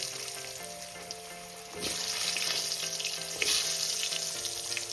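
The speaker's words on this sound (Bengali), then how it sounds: "আমি একটু হলুদ দিয়ে নেব না হলে তেলটা ছিটে আসবে এবার আমি দেব আলু" Potatoes dropped into hot oil with turmeric sizzle loudly, the frying hiss swelling as pieces go in and continuing steadily with some stirring, close and without speech.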